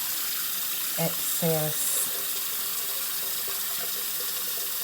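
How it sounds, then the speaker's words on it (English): Running tap water pours steadily as a small makeup sponge tin is rinsed in a sink, a continuous close hiss throughout, with a person speaking briefly over it. "I'm just gonna rinse this out"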